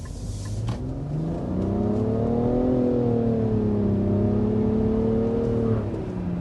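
A 2023 Nissan Rogue Midnight Edition accelerates around a corner, its engine note climbing smoothly, leveling off and easing back, heard from inside the cabin at moderate volume without talk.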